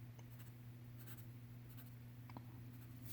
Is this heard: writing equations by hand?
yes